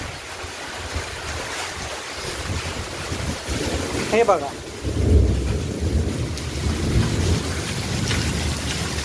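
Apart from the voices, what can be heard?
thunderstorm with strong wind and heavy rain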